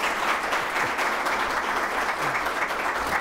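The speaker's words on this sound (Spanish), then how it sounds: "¿o no? Aplausos." Sustained applause from a crowd at a talk with political candidates, a dense steady patter of many hands clapping that fills the whole moment.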